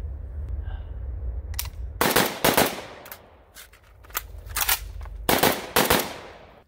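AK rifle fire during a shooting training drill: sharp, loud shots in quick pairs and short bursts, separated by brief pauses and ringing over about seven seconds.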